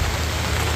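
Steady rain pours down outdoors in a wet-season downpour, a dense continuous hiss with no pauses, close and fairly loud, no voices over it.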